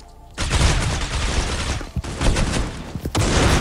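In the mobile shooter Critical Ops, a sniper rifle fires amid a gunfight. A loud, dense burst of game gunfire fills the clip, with a few sharper cracks standing out near the end.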